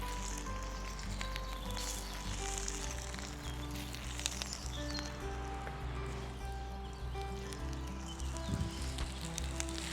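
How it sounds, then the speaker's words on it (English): Nettle fritters fry in a pan over an open campfire, giving a steady, close sizzle and crackle that runs through the whole stretch with no talk. "We're just going to place our fritters into the pan."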